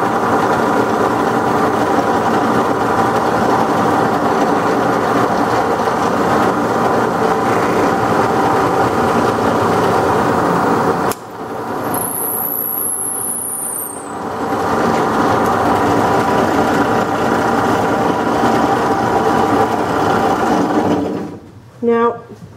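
Steady mechanical hum and whir from a wood lathe while a hole is drilled in an ambrosia wood tool handle, close and loud. It breaks off briefly in the middle before resuming, and a person talks over it.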